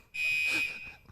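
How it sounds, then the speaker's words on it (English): A single bright electronic beep sound effect, loud and steady, dropped in right after a joke on a comedy talk show and lasting about half a second. "I just like the idea of that beep after that joke."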